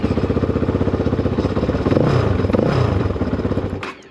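A Kove 450 Rally motorcycle engine fires with no throttle applied and settles into a rapid, even idle putter close by, loud and steady for a few seconds before cutting out abruptly.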